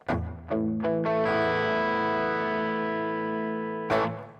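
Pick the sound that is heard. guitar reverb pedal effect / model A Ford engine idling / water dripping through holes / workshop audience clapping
guitar reverb pedal effect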